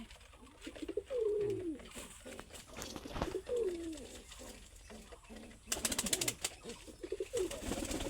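Pigeons coo close by in a pet loft, with several soft throaty rising-and-falling calls spaced a few seconds apart over faint background rustling and stray clicks.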